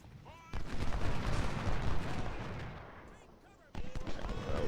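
Musket volleys and cannon fire from a Civil War battle at Cedar Mountain in the strategy game Ultimate General Civil War, a dense, rolling wall of gunfire that briefly thins and then bursts back in loudly.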